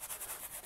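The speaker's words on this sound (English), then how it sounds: "Rubbing it into the canvas." Burnt umber oil paint with linseed oil rubbed into a canvas, a soft, continuous brushing scrub in steady back-and-forth strokes, close and fairly quiet, with no voices.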